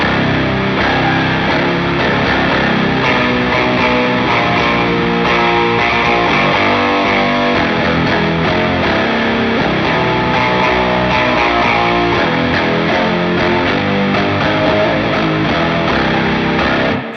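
Heavily distorted electric guitar through an octave effect pedal plays a dense, continuous riff with doubled low and high octave tones, loud and steady throughout.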